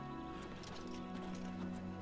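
Steady clip-clop of horse hooves trotting at a moderate pace in a video game, mid-distance, over a constant background hum of music or ambience.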